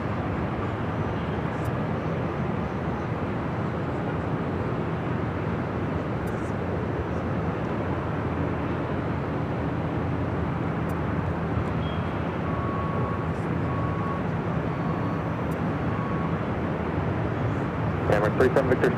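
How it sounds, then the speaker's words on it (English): Emirates Airbus A380 jet rumbling on its takeoff roll, a steady broadband roar holding at even loudness throughout, with faint radio-style talk underneath. "This is Emirates Flight 216 taking off to Dubai on the A380."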